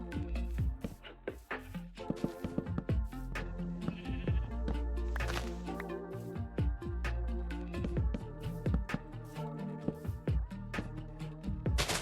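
Repeated sheep bleats from Minecraft livestock, a busy cluster of overlapping calls across the whole stretch, loud and close with blocky in-game footstep and placement clicks mixed in.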